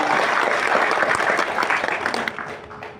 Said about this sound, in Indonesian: Tepuk tangan buat APK kita, luar biasa.